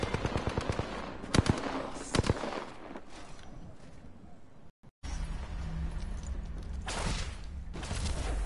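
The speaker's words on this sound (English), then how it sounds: "Shots fired at me." Bursts of automatic gunfire in the Apex Legends video game, a rapid volley at first, then sharp separate shots and heavier bursts near the end over a steady background rumble.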